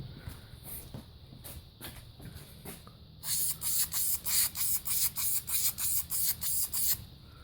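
VHT Wrinkle Plus paint hisses from a spray can in a dozen short, regular bursts close by, after a few quieter scattered sprays and rattles at the start.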